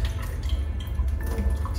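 Water collected over several days in a damp house is dumped out of a container, making a close, continuous gurgling splash with low sloshing and a few drips.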